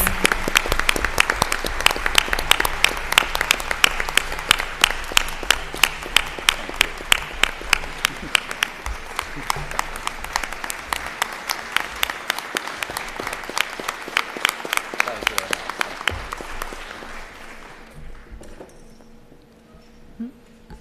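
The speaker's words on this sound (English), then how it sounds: "Give them a round of applause." A school district meeting audience applauds with dense, sustained clapping that carries on for most of the stretch, then thins out and fades into quiet near the end.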